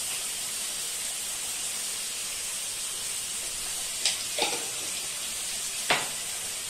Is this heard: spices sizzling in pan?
yes